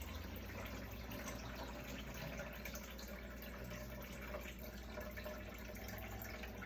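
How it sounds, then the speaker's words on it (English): Cloudy rinse water pours off basmati rice in a continuous faint splashing trickle, with no voices. "be careful when you pour out the water, you don't accidentally pour out the rice"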